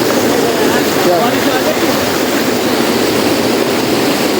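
A constant, loud roar of rushing water in a jungle fills the scene, a thick steady wash with no break in it from start to finish.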